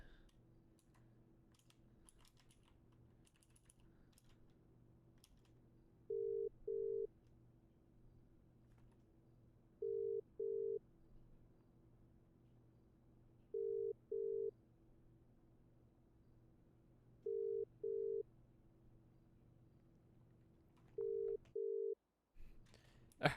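Phone ringing unanswered during a video game roleplay call: repeated pairs of electronic ring tones at even intervals, quiet and thin over a low hum, ending abruptly.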